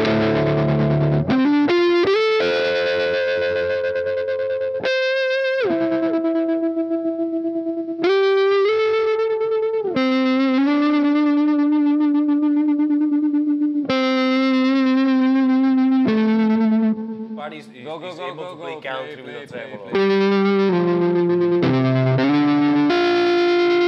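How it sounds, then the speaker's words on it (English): Electric guitar played through a Dophix Dante Overdrive pedal, producing sustained distorted notes and bends with warbling, chorus-like effects and a brief wobbling, glitchy passage, loud and alone without talk. "Engage the Dante Overdrive."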